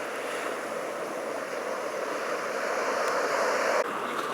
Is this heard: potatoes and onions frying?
no